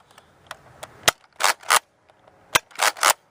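A Nerf Modulus Mediator blaster fires Precise Pro darts in sharp pops, a few single shots followed by quick pairs, close and crisp with quiet gaps between them.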